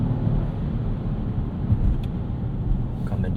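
A 2025 Genesis GV80 Coupe with a 409 hp e-supercharged engine in Sport Plus mode gives a steady low cabin rumble with a slight swell during an automatic downshift. No one speaks.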